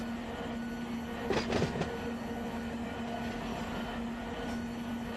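A freight train rumbles along in the Run 8 train simulator game on the BNSF line, a steady drone with a brief burst of wheel clatter and squeal near the middle, no talking.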